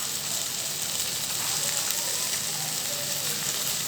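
Masala and rock salt sizzle steadily in a pan as brinjal kulambu cooks, a dense, continuous frying hiss heard close up with no break.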